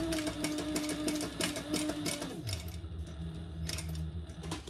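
A sewing machine stitches a fabric sling bag, a short line with a small box stitch and backstitching, running steadily and close with its mechanical hum and rapid needle clatter, then shifting pitch partway through.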